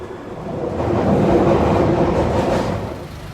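A London Underground train rumbles through a station, a loud, steady roar that swells and then eases slightly, with a clickety-clack of wheels on the rails and no voices.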